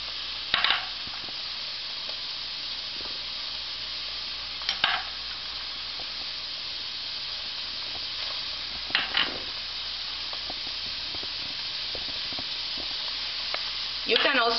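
Sofrito of garlic and vegetables frying in a pan, giving a steady low sizzle throughout with a few brief clatters of stirring. No one speaks.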